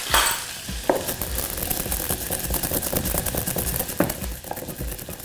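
Onions frying in a pan give a constant, fairly loud close sizzle with faint crackles and a couple of sharp clicks, heard alone without any voices.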